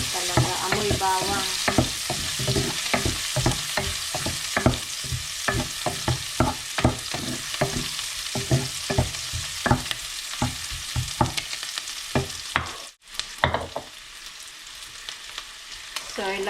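Onion fries with browned garlic in a pan for Ilocano patula, a continuous sizzle broken by frequent rhythmic scrapes and taps of the spatula, close and fairly loud, with a brief pause near the end.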